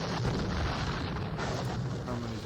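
Guard artillery firing in a John Tiller Napoleonic battle game: a continuous, loud wash of booming cannon fire and rumble with no clear gaps, sustained for the whole span.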